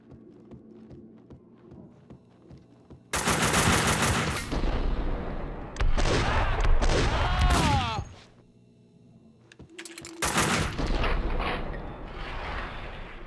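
Gunfire in the Max Payne 2 video game: loud bursts of shots in two long stretches separated by a quieter gap, with mechanical clatter mixed in.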